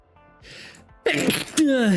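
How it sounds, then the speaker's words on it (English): A single loud, forceful sneeze bursts out after a quiet lead-in, then a voice follows with a gliding vocal sound. "I gotta sneeze."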